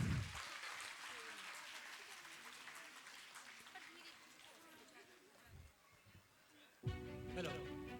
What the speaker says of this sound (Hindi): लीजिए तालियों के साथ स्वागत कीजिए ब्रेल दादा